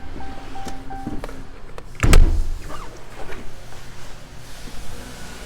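A power sliding rear window on a 2016 Ram 1500 pickup hums as it moves, with a loud thunk partway through as it latches, then a quieter motor whir inside the cab.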